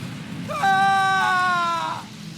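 A character in the Star Wars: The Old Republic game screams under torture, a single drawn-out, strained cry lasting over a second, loud and close over a faint background hum.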